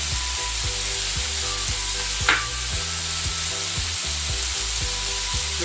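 Thyme sizzles in a frying pan during the cooking of a lamb curry with coconut milk, apple and pineapple: a steady, close frying hiss with a rhythmic low stirring pulse underneath and one brief scrape near the middle.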